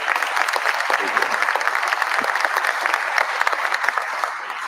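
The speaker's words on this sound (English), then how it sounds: "So let's give him a round of applause." Dense, steady audience applause fills the room, many hands clapping at once at a fairly loud, even level throughout, with a faint voice or two underneath.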